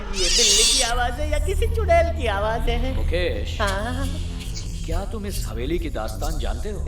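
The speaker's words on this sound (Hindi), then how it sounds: "ये बिल्ली की आवाज है या किसी चुड़ैल की आवाज है?" A cat meows and wails repeatedly at night around an old, supposedly haunted mansion in a village, its drawn-out cries tangled with someone speaking over them.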